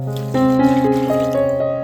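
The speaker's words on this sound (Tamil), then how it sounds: "ஒரு கிளாஸ் ரைஸ்க்கு ரெண்டு கிளாஸ் தண்ணி ஊற்றிக்கோங்க" Coconut milk mixed with extra water pours steadily into a cooking pan of rice, a continuous close, gurgling liquid stream with a rising tone as the pan fills, no talking.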